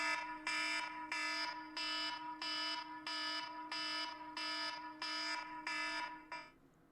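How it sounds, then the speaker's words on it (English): Electronic alarm used as a high school wake-up alarm, a loud buzzing tone pulsing in a regular repeating rhythm, about ten beeps before it cuts off, heard alone without talk. "That was my alarm for high school."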